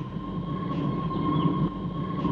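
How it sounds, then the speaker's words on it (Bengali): A train starts to move off in a film scene, giving a steady low rumble with a sustained thin whine riding over it, continuous and fairly close, with no one talking. "ট্রেন চলতে শুরু করেছে।"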